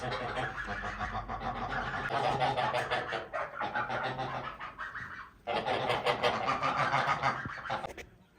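A flock of farm geese honks and cackles continuously at close range, a dense chorus of overlapping calls with a brief lull midway.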